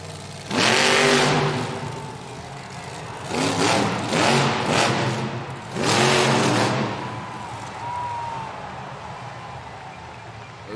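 El Toro Loco monster truck at a Monster Jam stadium event, engine revving in several loud, rising bursts with roaring crowd-filled ambience, then settling toward a lower rumble.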